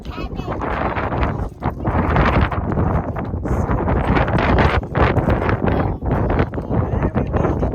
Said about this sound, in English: Just so windy.